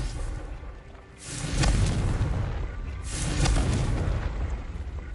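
Two heavy explosive blasts from the Confringo spell in Hogwarts Legacy, each a loud booming burst with a rumbling tail, spaced about two seconds apart over steady background game ambience.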